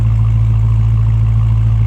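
A 2016 Dodge Challenger SRT Hellcat idles steadily, a loud, deep and continuous engine rumble with no talking over it.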